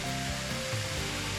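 Butter sizzling as it hits apples in a hot pan, a continuous broad hiss with a faint tonal hum beneath, steady and close.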